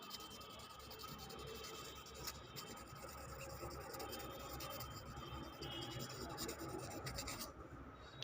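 A nail buffer rubbed back and forth over a fingernail to polish it to a shine during a home manicure, giving a soft, steady, close scratching rub that continues throughout.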